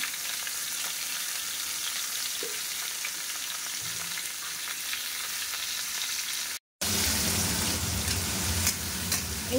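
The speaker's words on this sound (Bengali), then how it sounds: "সবার প্রথমে পনিরটা একটু ভেজে নেব। এবার আলুটাও দিয়ে দিলাম, সাথে সাথে আলুটাও একটু ভাজা হয়ে যাবে।" Paneer and potato pieces frying in a wok, a continuous close sizzle with faint stirring, briefly cut off before resuming louder, no talking.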